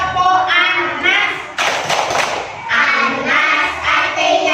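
Children clapping the Tepuk An-Nas rhythm in a classroom, a burst of dense clapping in the middle, with sung or chanted voices before and after.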